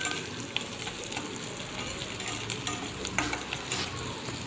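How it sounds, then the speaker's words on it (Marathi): Peanuts and chili spices fry in hot oil with a steady, dense sizzle. Stirring scrapes and clatters now and then, with no one talking. "तेलामध्ये कडून घ्यायचं आहे."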